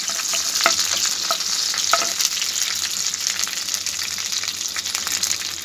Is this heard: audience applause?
no